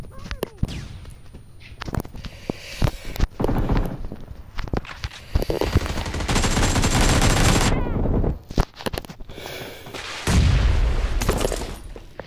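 A TDM match in an online shooter video game, with dense bursts of gunfire, a loud grenade blast and busy in-game action filling the whole stretch up close, loud and continuous.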